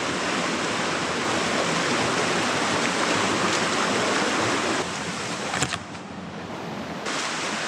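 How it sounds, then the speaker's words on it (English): A creek in the Appalachian Mountains rushes steadily and loudly, a broad continuous wash of flowing water that drops slightly in level near the end, with no voices. "Pretty creek though."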